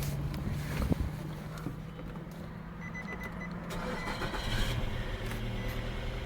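A car engine idles steadily with the radiator cap closed, the engine under test for a head gasket fault, a low continuous hum with some wind and faint clicks around it, no one talking.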